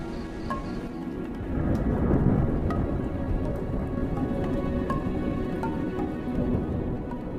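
Low, rolling thunder rumbles through steady rain on open wildebeest grazing land ahead of a storm, a broad continuous roar with no voices.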